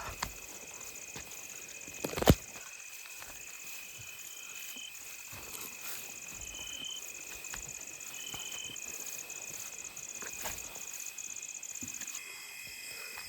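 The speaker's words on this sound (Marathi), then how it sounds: "रातकिड्यांचा किर्र आवाज चालू आहे" Crickets chirping at night near a stream during a crab-catching walk, a steady shrill buzzing drone with a few louder knocks and footsteps, no talk.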